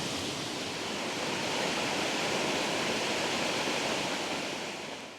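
Mells River in Somerset flowing beside a woodland path, a steady broadband rush of moving water filling the whole scene, constant and fairly close with no voices.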